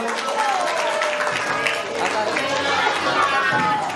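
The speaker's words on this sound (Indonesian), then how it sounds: "Tepuk tangan dong untuk Mas Vino 9A" Students clapping for a classmate in a school classroom activity, a busy patter of applause mixed with crowd chatter and voices talking over it.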